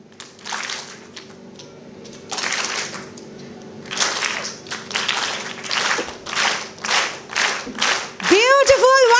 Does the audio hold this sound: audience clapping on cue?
yes